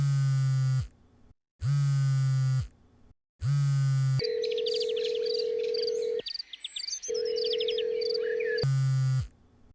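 A phone call goes unanswered: repeated buzzing ringback tones sound in regular on-off bursts, with a steady tone and faint chirping in the background.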